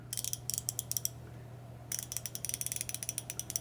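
A 90-tooth ratchet head clicks in two quick bursts of fine, rapid ticks separated by a short pause, crisp and close with a low steady hum behind.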